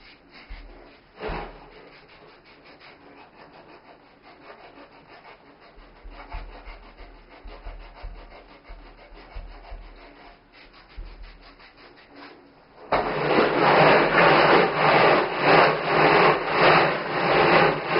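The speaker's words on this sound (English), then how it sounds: "So now I'm going to do some scrubbing of the feet with this pumice stone, especially around the edges." A pumice stone scrubs the edges of the feet with steady rasping rubs, soft at first and then turning into a loud, rough, continuous grinding scrape for the last few seconds.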